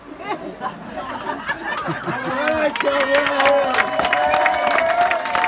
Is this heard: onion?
no